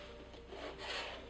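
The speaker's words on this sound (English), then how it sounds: "I'm just going to make a line at the 6 inch mark." A pencil scratches a line across a wooden board at a measured mark, giving a soft, continuous rubbing rasp that swells near the end and heard close and alone.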